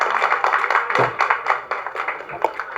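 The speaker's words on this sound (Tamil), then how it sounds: "கைத்தட்டல் அதிகமாக இருக்குது" A crowd applauding at a film press meet, with dense, steady clapping that swells and fades slightly across the few seconds.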